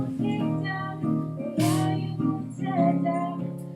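An acoustic guitar played in an office and captured by a microphone. It gives a short, close passage of strummed chords with bright string attack and ringing sustain, and no voices.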